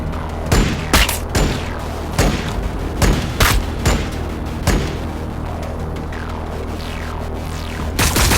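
Gunfire in Warhammer 40000: Battlesector: a loud barrage of sharp shots and booms at irregular intervals over a steady low throbbing hum, with no talk.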